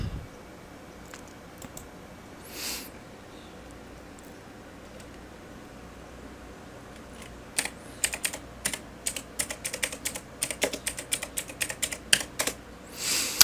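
Typing on a computer keyboard while searching for accounting software: a few isolated clicks, then a rapid run of keystrokes in quick irregular bursts, close and clear over faint room hiss.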